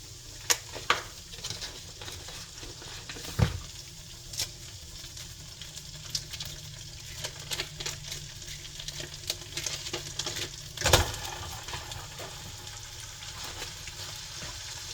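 A stick of butter melting in a hot skillet, giving a steady soft sizzle and spatter throughout with scattered sharp clicks and knocks of a pan or utensil, close by and with no talking.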